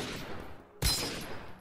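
Gunfire in the browser shooter Krunker.io: a sharp, loud shot cracks partway through, then rings out briefly over a noisy game background.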